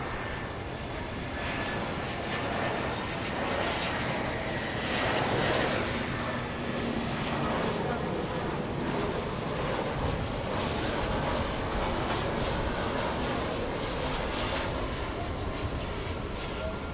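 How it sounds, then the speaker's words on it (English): An American Airlines Airbus A319 arrives at night at Dallas/Fort Worth airport, its steady broad jet roar holding near and constant throughout with a faint high whine on top. "This is an Airbus A319 arriving from Des Moines, Iowa."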